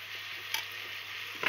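Vegetables frying in a rice cooker, a faint steady sizzle with a couple of brief scraping stirs, quiet and close, with no talking.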